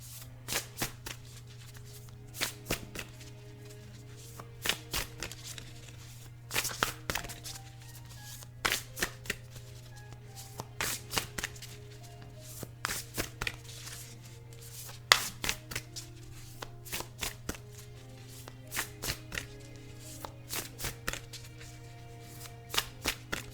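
Cards being shuffled by hand during a card reading, a steady series of soft riffling bursts repeating every second or so over a low constant hum, quiet and close, with no talking.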